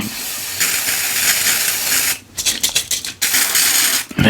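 Mr. Sheen aerosol polish is sprayed onto a cloth for a vintage book, making a loud close hiss that runs for about two seconds, followed by several short sputtering bursts and one final spray.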